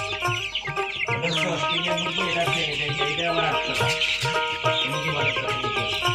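Chickens cluck and a rooster calls amid dense barnyard clamor, many birds layered together, loud and continuous throughout.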